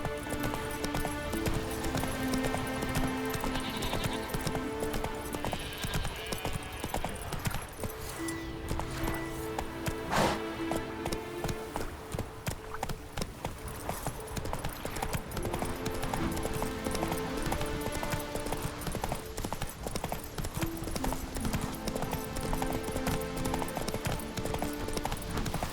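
Horse galloping in The Witcher 3: Wild Hunt on Skellige, a fast continuous clip-clop of hooves running throughout, with occasional game sounds layered over it.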